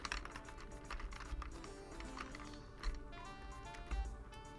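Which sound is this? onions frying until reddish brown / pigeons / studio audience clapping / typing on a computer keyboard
typing on a computer keyboard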